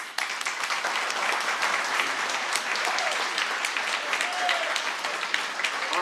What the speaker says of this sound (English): Girls softball team, clap it up.